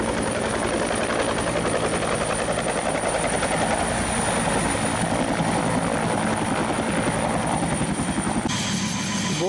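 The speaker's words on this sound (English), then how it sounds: "the thrill of seeing the helicopter arriving" A helicopter arrives for a heli-hiking trip in the Bugaboos mountains, its rotor chop and turbine whine loud and close, pounding steadily throughout with no talk.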